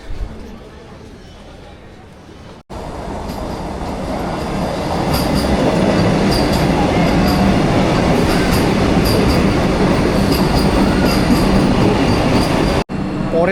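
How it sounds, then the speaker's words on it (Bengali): A train rolls loudly past a railway station platform, a continuous heavy rumble of wheels on rails with rhythmic clacking and faint squeals, building in the first seconds then holding close and steady. "পরের ট্রেনও আগে চলে যাচ্ছে"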